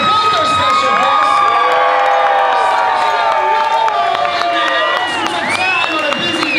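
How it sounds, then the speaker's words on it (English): Loud audience cheering, whooping and shouting fill a live interview event with Stan Lee and Sergio Romo, a dense continuous roar of many voices with scattered applause underneath throughout. "let's give a round of applause for both our special guests"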